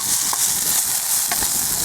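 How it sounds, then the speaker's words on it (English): Salted mushrooms sizzle in a small pot outdoors, a loud continuous hiss with a couple of faint stirring scrapes, no speech. "when you put the salt in, give that a quick stir around"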